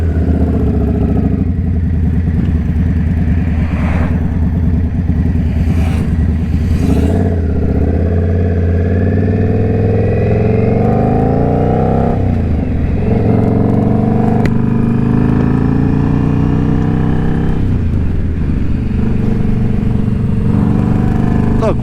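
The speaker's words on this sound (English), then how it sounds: "That friggin' exhaust is loud." A motorcycle with a loud exhaust, just back from the shop, revs and accelerates hard on an autumn ride near King City, its engine note climbing and falling in repeated pulls, loud and close throughout.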